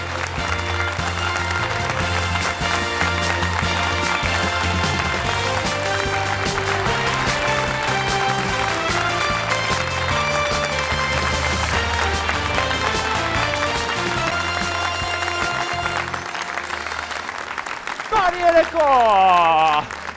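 Studio audience clapping to welcome four guests onto a TV variety show stage, steady applause under music and talk that fades near the end.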